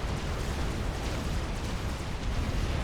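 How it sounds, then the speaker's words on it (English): Missile explosions from the strategy game Supreme Commander (FAF), a dense, continuous rumble of overlapping blasts and booms forming an unbroken roar of battle. "Got a Viper up front lobbing missiles at it."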